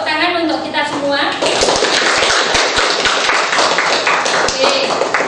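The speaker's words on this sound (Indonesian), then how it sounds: "Tepuk tangan untuk kita semua" Classroom applause for students in a school lesson, a speaking voice at first, then a burst of brisk clapping from many hands, loud, close and continuous, with sharp individual claps standing out.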